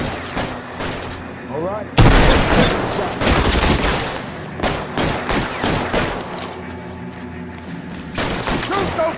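Gunfire in a shootout in L.A. Noire video game, loud bursts of rapid shots and heavy booming reports in irregular clusters, with someone speaking briefly between them.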